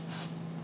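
Penetrating oil sprays in one short hissing burst onto the hitch mounting nuts of a 2022 Honda during a Curt trailer hitch receiver installation, followed by a faint steady hum.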